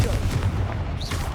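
Confringo fire spell blast in Hogwarts Legacy, a low rumbling boom with crackling burst layered over a dense roar, loud and close, lasting briefly.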